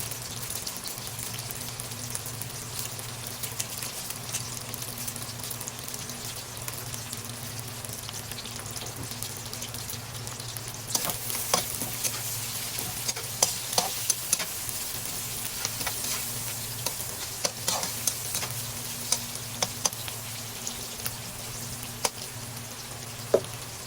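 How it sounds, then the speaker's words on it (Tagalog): Chili peppers are sautéed in a pan, a steady loud sizzle with occasional sharp crackles and pops that grow more frequent midway through, and no voices. "pwede na rin natin isama sa paggisa ang sili"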